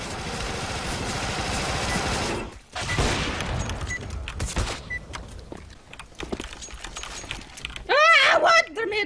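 Rapid bursts of gunfire from a competitive online shooter game rattle in quick succession while a player shouts and talks over them, ending with a louder ringing burst.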